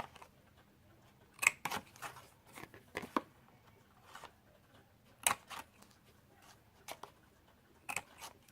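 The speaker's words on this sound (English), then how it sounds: "Then you're going to take your corner rounder and you're just going to round" A handheld corner rounder punch rounds four paper corners for a treat-size box, giving several sharp, close clicks and crunches spaced irregularly, with quieter handling rustles between them.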